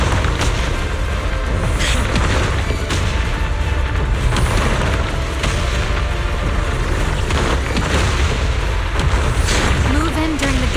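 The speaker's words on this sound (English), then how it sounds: "Move in during the gaps between explosions." Rumbling explosions in the video game Zenless Zone Zero, heavy booms rolling continuously with a dense low-end roar, mixed under game music and effects with talking voices.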